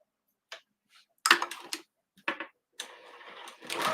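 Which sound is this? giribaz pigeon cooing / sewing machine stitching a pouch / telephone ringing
sewing machine stitching a pouch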